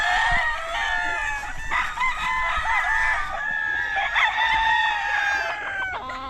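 Gamefowl roosters on a farm crow repeatedly and overlap one another, with clucking hens mixed in, loud and close throughout with no pauses.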